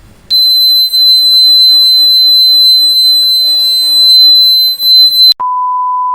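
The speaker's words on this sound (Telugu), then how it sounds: "అప్పుడైతే పవర్ అయితే సప్లై మన బజర్ అయితే రన్ అవుతుందన్నమాట" A homemade water alarm, built with wires taped to a glass that water is poured into, sounds a loud, steady high-pitched electronic buzzer tone for about five seconds before it switches to a lower, softer tone.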